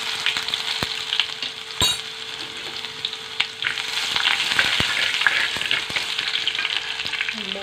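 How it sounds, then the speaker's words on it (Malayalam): Onions frying in a pan: a steady, close sizzle with occasional clinks and scrapes of stirring, and no voices. "നമുക്ക് ഉള്ളി ഇട്ട് കൊടുക്കാം."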